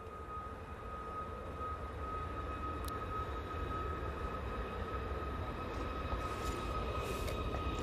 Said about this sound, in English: This is the Logan Air, Embraer ERJ 145, just touching down from Aberdeen.